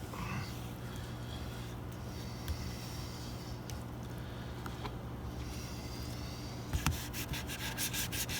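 Hand sanding of a primer guide coat on a guitar body with 320 grit sandpaper, a faint, continuous rubbing scrape with a few small taps and knocks, and no talk.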